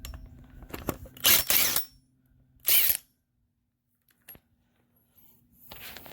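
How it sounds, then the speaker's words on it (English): A Makita impact wrench on a 15/16 nut holding the alternator pulley of a Freightliner Cascadia truck fires two short, loud rattling bursts close by, with quiet gaps and faint clinks between. "Now I have to remove this nut with the impact Makita,"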